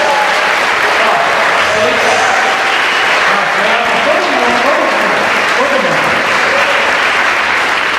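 Loud, sustained applause from a large church congregation, dense and steady throughout the whole stretch.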